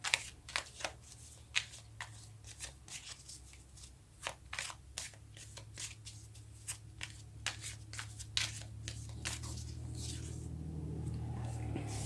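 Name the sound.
shuffling tarot cards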